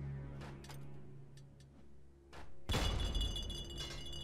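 Glass bottles shatter in the Fallout 3 video game: after a few faint taps and thumps, a sudden loud crash of breaking glass bursts in and rings on with scattered tinkling to the end.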